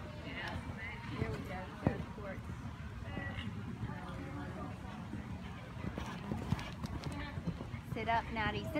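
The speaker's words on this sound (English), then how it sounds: "Canter, please. Canter your horses." Horses canter in a riding arena, their hooves clip-clopping in a steady rhythm under an instructor's voice calling out to the riders, with a faint whinny near the end.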